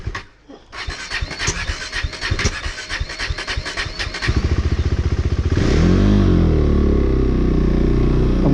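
A KTM 390 Duke single-cylinder motorcycle idles roughly with uneven, clattering pulses, then steadies into a loud, close, continuous engine drone after some blipping; no speech.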